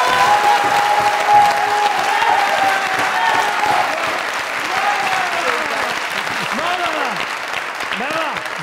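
Sustained audience applause in a comedy talk-show studio, loud and dense, with faint voices and a sustained tone running underneath.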